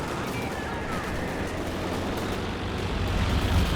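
Bofors anti-aircraft guns fire in the World War II strategy game Company of Heroes 2, a dense, continuous roar of rapid gunfire and battle noise heard throughout at steady loudness.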